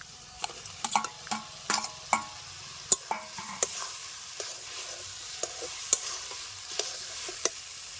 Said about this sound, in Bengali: এবার আমি দিয়ে দিব বেজে রাখা করলা